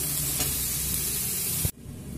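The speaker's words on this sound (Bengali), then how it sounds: "দেখুন সবজি তো ভাজা হচ্ছে।" Cauliflower stalks and other vegetables fry over a medium flame in a covered pan, giving a steady, close, loud sizzle and hiss that cuts off sharply near the end.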